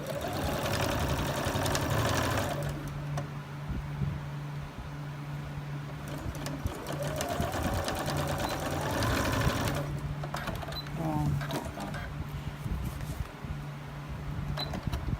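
A domestic sewing machine stitches a small bag made from fabric scraps, its rapid motor hum running in close bursts with short pauses between runs.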